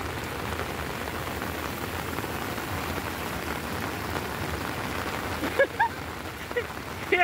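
Steady, dense rain falls on Diveagar beach, a constant close hiss of drops on surfaces with a few louder splashes and knocks near the end.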